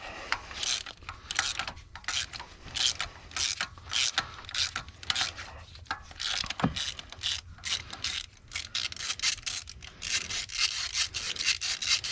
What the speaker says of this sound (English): So we're going to pull this spark plug out.